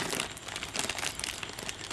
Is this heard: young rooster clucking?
no